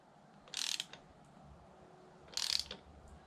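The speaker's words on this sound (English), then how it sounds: "We'll tension her up to 115 foot-pounds." A torque wrench ratchets as it tightens a fastener to 115 foot-pounds on a Yamaha F100 four-stroke outboard, with two short bright clicking bursts, well separated and moderately close, in an otherwise quiet setting.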